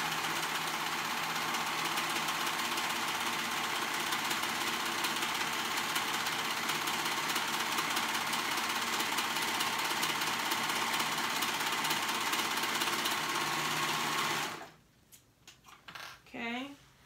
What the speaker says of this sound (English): I'm gonna sew that raw edge together, and I'm using my serger